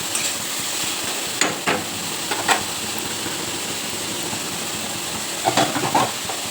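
Potatoes and peas go into a pan one by one, a steady frying hiss broken by a few sharp clatters and splashes as the pieces land, heard close with no voices.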